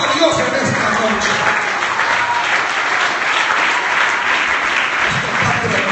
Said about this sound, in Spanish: dale un fuerte aplauso a Dios en esta noche